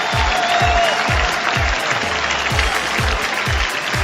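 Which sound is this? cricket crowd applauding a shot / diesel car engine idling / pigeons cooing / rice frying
cricket crowd applauding a shot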